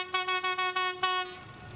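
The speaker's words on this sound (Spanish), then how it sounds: "El tren pasó por la Tacunga y se aproxima a Salcedo." A train in the Ecuadorian highlands between Latacunga and Salcedo sounds a series of short, rhythmic horn or whistle blasts followed by one longer blast, loud and fairly near, with no speech.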